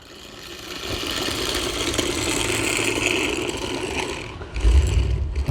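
A small remote-controlled R5 droid toy from Star Wars Galaxy's Edge drives along a sidewalk outdoors, its motor giving off a steady, buzzing, rattly whir that holds constant for several seconds before a louder low rumble near the end.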